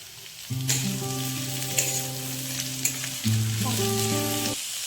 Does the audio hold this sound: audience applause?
no